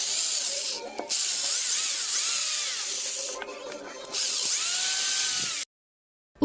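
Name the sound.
drilling out a shaft sleeve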